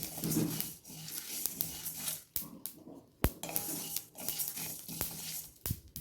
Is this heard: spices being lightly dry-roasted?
yes